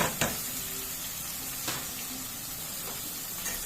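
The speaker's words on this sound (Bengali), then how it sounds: "মাশরুমটা একটু ভালো করে ওর সাথে ভেজে ভেজে নেবো" Mushrooms fry in a pan with a soft, steady sizzle, broken by a few faint scraping stirs, quiet and without talk.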